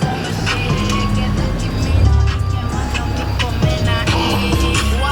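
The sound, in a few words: lowered sports car maneuvering into a parking spot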